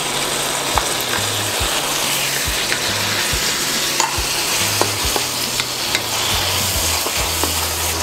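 Tomatoes hit a pan of browned onion and fry with a steady, loud sizzle, broken by repeated low scraping knocks of a utensil stirring against the pan throughout.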